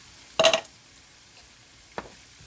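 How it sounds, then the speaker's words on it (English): Italian sausage with peppers and onions in a skillet gives one short loud burst of sizzle and stirring, then a quieter crackle about a second and a half later, with near silence between. "we'll just fry that up a little bit"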